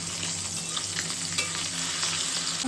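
A brief stretch of rohu fish frying in a pan, a dense continuous sizzle and crackle with a few faint stirring taps, close and steady, with no voices.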